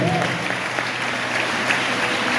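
A church congregation gives strong, continuous applause that fills the whole short stretch at an even level.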